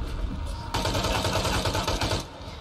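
Unsuppressed assault rifle in the Shadow of the Tomb Raider video game fires a fast burst of automatic shots lasting about a second and a half, dense and fairly quiet in the game mix, with no talking over it.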